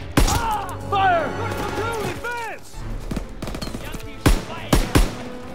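Rapid machine gun fire in a World War II combat game set in the Hürtgen Forest, bursts crackling over shouted voices, followed by several loud, sharp single shots near the end.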